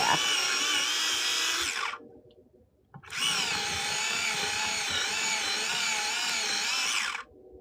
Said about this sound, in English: electric sharpener, so hopefully it will work on these